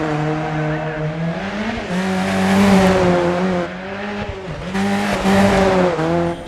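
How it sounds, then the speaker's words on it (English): A Ford Sierra Cosworth RS500 rally car in Dirt 4 with its gearbox playing up, the engine droning loudly and rising and falling in pitch as it revs through gear changes. "Sounds like the gears are playing up."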